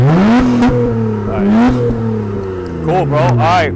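An exhaust with its cutout valve open revs in several sharp bursts, the engine note climbing and falling loudly and close by, while people talk briefly between the revs.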